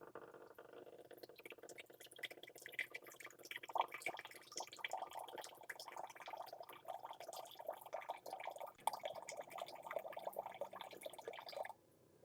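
Water trickles and splashes quietly and steadily for about twelve seconds from a countertop reverse osmosis water filter dispenser, then stops abruptly.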